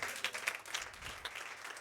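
Church congregation applauding the Lord during a worship service, a soft, distant spread of clapping that stays steady and fairly faint throughout.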